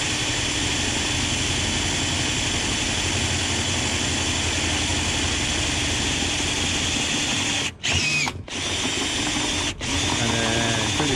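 Power drill boring 8.5 mm holes in a VW T5 van to fit a rear spoiler, running as a long continuous whine with a few brief stops and restarts near the end, close and loud, with no voices.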